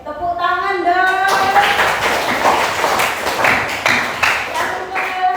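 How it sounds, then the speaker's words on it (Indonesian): A small group claps in a classroom-like setting, scattered hand claps building into a brief round of applause after a voice speaks at the start. "Oke, tepuk tangan dong."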